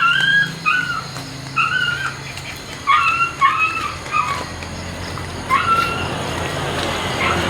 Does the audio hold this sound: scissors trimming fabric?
no